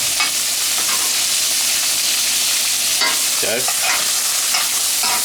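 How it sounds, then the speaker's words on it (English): Ribeye steak frying in a pan of butter with garlic pieces, a steady loud sizzle throughout with spoon scraping and stirring clatters while being basted; a brief spoken word partway through. "Start basting that steak"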